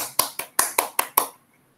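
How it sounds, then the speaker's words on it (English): Six sharp, evenly spaced claps come through close and distinct during an online kindergarten class, then stop. "All of you clap for yourselves."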